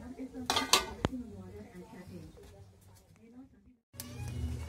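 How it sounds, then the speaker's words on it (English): Saucepans swapped on the stove while making gluten-free soup: a loud burst of clanking pots and pans up front, then lighter metal knocks and rattles, a short silence, and renewed kitchen clatter. "Had to change my saucepan because it was a bit too full"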